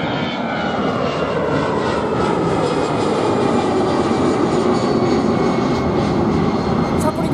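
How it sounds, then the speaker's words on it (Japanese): A fixed-wing airliner aborting its landing and climbing away in a go-around near Senaga Island, Okinawa: a loud, continuous, close jet engine roar that holds steady throughout. "着陸失敗や、やり直しや着陸。もう一回浮いたの。"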